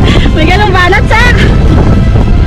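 A strong gust of wind on the Mt. Stelfox via ferrata mountain route, loud rough buffeting roar against the microphone while voices shout and call out over it.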